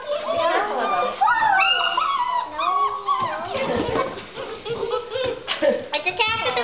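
Puppies whimper and yip in high, wavering cries and short squeaky yelps, close up and nearly continuous. People talk over and between them throughout.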